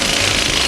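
A pneumatic jackhammer pounding at close range, a loud dense rapid rattle that stays constant and unbroken for the whole short burst.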